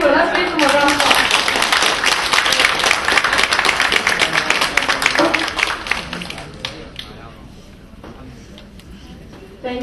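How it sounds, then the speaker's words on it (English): An audience at the annual meeting of a parents-and-children education club breaks into dense, loud applause that holds for several seconds and then thins out and fades. "Let's give them a round of applause."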